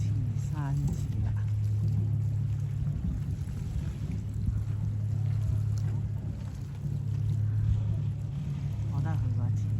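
A boat passes on the sea off Hong Kong near Tai Po, its engine a steady low drone with rumbling water that holds throughout the passage, while people talk nearby and a dog barks briefly.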